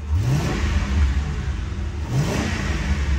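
An old LAPD squad car with a 4.6 liter V8 and aftermarket intake manifold revs twice, each throttle blip rising in pitch over a loud, rumbling idle recorded up close.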